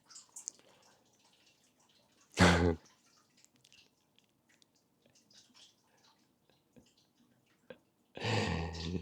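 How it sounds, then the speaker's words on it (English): A leaking household tap dripping and splashing, small irregular drips scattered across the quiet, with two loud bursts of gushing water, one short and one near the end. "I don't know if you can hear the water right now"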